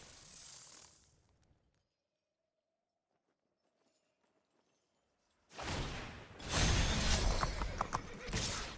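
Horse hoofbeats from the MTG Arena card game, a short clip-clop burst at the start, then near silence, then a loud dense rush of galloping and whooshing effects filling the second half.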